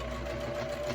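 A sewing machine runs in a steady continuous whir, stitching fabric for a snap-closure project, close and even with no break over the short stretch.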